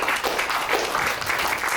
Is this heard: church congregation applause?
yes